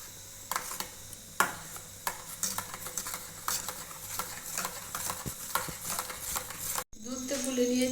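A spoon stirs milk in a bowl to dissolve it while making coconut sandesh, with repeated close scraping and light clinking strokes in an uneven rhythm. Near the end a brief cut gives way to a different, louder sound.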